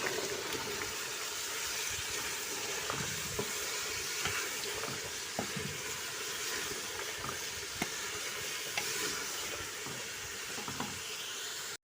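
Chopped carrots and roughly cut tomatoes sizzle steadily in a hot pan, with occasional scraping and stirring knocks over a continuous frying hiss, fairly quiet and without talk.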